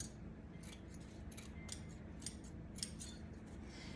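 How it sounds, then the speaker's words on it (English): Scissors snipping through a cut-out tongue shape for a ventriloquist dummy, a series of quiet, crisp blade clicks spaced irregularly about half a second apart, close and faint against a hushed room. "I can actually cut down the tongue significantly"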